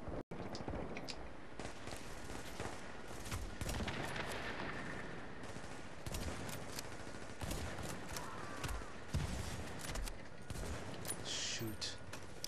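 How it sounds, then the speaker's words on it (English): Continuous bursts of enemy gunfire in the video game The Division, rapid rattling shots layered with occasional speech throughout. "they're shooting at us"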